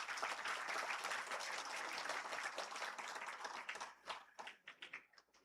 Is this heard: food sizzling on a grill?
no